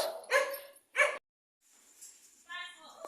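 Pet pug dogs indoors at a home in Lucena City give a few short barks close by, two sharp bursts followed by quieter whimpering and yips, with people talking softly in the background.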